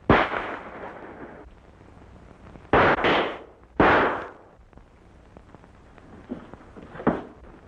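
A revolver fired with blanks at close range gives several sharp, loud cracks at irregular intervals, each with a short echoing tail, over a quiet background with no speech.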